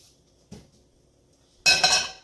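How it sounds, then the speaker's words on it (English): Oil being drained from a pan used to cook scrambled egg for keto cauliflower fried rice: a short metallic clink, a pause, then a louder clatter and scrape of the pan, with no voices. "So I'm going to drain some of this oil"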